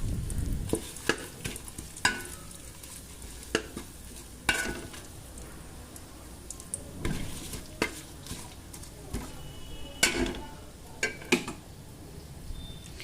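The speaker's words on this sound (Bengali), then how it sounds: "এবার আমি ফোড়নের জন্য দিয়ে দেবো ওই ঘিয়ের মধ্যেই গোটা গরম মশলা আর তেজপাতা" Whole garam masala and bay leaves sizzling in ghee in a pan, a constant frying hiss broken by repeated sharp clinks and scrapes of stirring against the metal, close and without speech.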